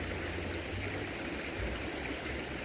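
A forest stream flows beside the listener in a province setting, giving a steady, full rushing and babbling wash of water that stays constant and fairly close throughout.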